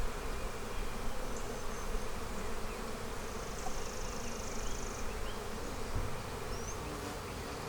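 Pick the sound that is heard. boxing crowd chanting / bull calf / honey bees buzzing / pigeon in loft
honey bees buzzing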